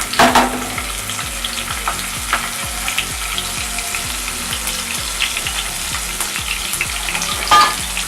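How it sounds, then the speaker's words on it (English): Onions and green chilies fry hard with fennel seeds in oil for a mutton fry, giving a loud, steady sizzle close up, with a rhythmic pulsing under it and a few sharper clatters of stirring. "The onions are almost cooked, not almost, actually fried properly."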